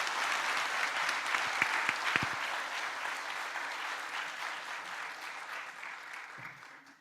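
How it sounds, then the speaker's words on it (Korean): A church congregation applauds during a thanksgiving service for ordination and retirement, sustained clapping that stays even, then slowly fades toward the end. "우리 너무 뜨거운 박수, 온 마음을 담아서 박수하겠습니다."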